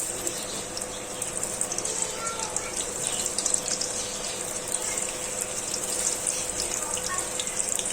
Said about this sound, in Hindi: ऑयल हमारा गर्म हो चुका है। अब हम इसमें प्याज ऐड कर देंगे।